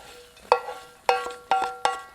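Roasted semolina being stirred together with fried cashews, raisins and almonds for coconut rava laddu: four distinct scraping, clinking strokes of a spoon against the pan, close and fairly quiet, with no one talking.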